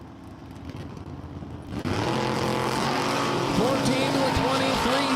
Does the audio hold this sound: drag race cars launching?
yes